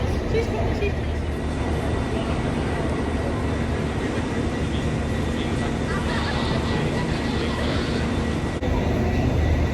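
A steady, loud rumble of a train running on rails in Northern Ireland fills the whole stretch, with a dense mechanical roar and faint rattling throughout.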